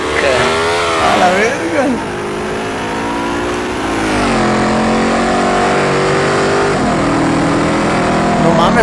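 A car engine revs hard and roars while driving, loud and close, its pitch rising and falling through gear changes, with people talking over it.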